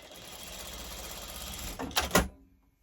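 A sewing machine stitches quilt fabric pieces in a short, close whirring run that rises into a quick burst of needle clatter and then stops.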